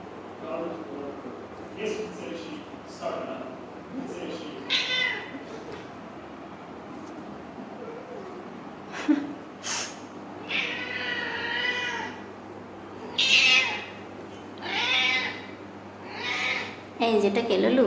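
Kittens meow again and again, close and clear, in short high cries of varying length over a low steady hum, some calls overlapping as several kittens call out.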